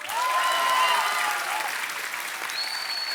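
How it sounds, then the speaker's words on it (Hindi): A steady burst of studio audience clapping at a comedy show, dense and sustained for a few seconds with some crowd noise mixed in. "जोरदार तालियां हो जाए।"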